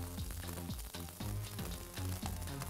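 Diced ham sizzles quickly in a hot pan for a corn-and-chicken mazorcada, a steady crackling fry with soft stirring scrapes, faint and continuous without talking.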